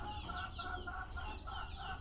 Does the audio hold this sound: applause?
no